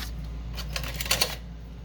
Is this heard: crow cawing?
no